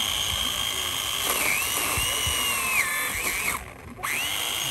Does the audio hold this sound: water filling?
no